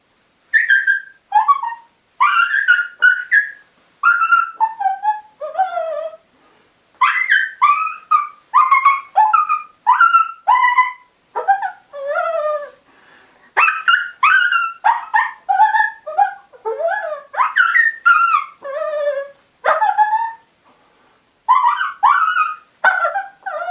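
A handheld predator call mimics female coyote whimpers: a close, high-pitched series of whiny, wavering yips and cries in bursts separated by short pauses, with no voices.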